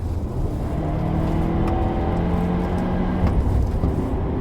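Proton X70 AWD SUV climbing the winding Genting mountain road in auto mode, a steady close engine drone with road rumble and a faint rising note, continuous without pauses.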